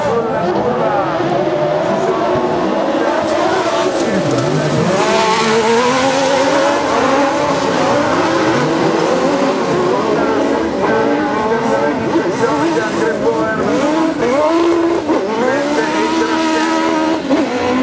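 Buggy 1600 autocross cars race through a curve in a semifinal of the FIA European Autocross Championship at Maggiora, their engines loud and overlapping as they rev and shift, with tire noise and a commentator talking over them.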